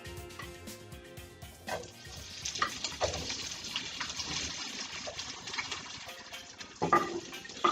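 Chopped onions hitting hot oil in a pan for chana pulao, a steady soft sizzle with occasional stirring clatter and a few sharper clinks near the end, fairly quiet throughout.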